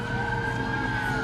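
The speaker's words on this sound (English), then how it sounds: "Oh, and there go the fire engines now back to their stations." Fire engines heading back to their stations after a call in a retirement community, siren wail steady and sustained with a low engine rumble beneath, fairly loud and continuous.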